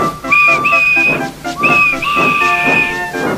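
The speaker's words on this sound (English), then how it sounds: "And he blew his whistle." A steam locomotive whistle sounds in two long, shrill blasts, loud and close, each held for about a second with a short gap between.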